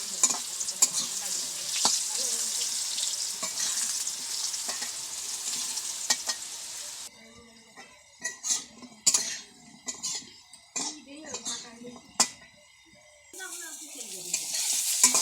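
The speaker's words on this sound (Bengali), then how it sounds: "আলু ভাজা হচ্ছে।" Potatoes fry in a pan with a steady sizzle through the first half, then stirring and the clatter of a utensil against the pan over a quieter hiss, before the loud sizzle returns.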